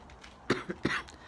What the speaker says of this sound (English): Cough is still around, I tell you